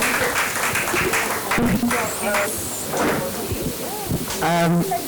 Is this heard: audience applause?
yes